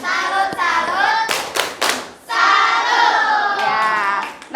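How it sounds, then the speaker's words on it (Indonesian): A group performs the 'tepuk salut' salute clap during an Indonesian motivational session: chanted voices carry the rhythm, broken by a short burst of sharp, loud claps in the middle. "Tepuk salut. Salut, salut. Salut, salut."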